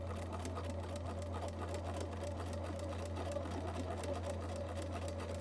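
A sewing machine stitches decorative trim onto the fabric of a costume tabard with a continuous, even mechanical whir and a steady low hum, close up and without pauses.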